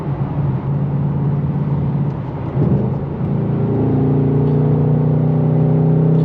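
A Ford Mustang Dark Horse engine accelerates under a little throttle, a loud, steady low growl that climbs and holds a droning tone toward the end.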